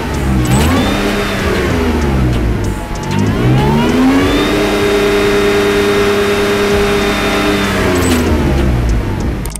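A supercharged Jeep JK engine revs repeatedly, each loud rise in pitch holding briefly before dropping back, with a whine layered over the engine roar.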